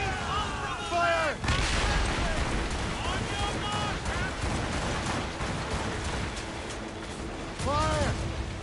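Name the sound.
ship cannons firing in Assassin's Creed Rogue video game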